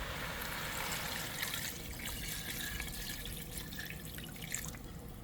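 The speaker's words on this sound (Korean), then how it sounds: "그러면은 이제 여기다가 물을 붓고" Water poured into a cooking pot of softened, stir-fried onions for a large batch of curry, a steady continuous trickle and splash heard up close with no talk.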